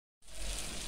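Ground spices frying with mutton in a pan for kasa, a steady close sizzle that starts abruptly and holds evenly.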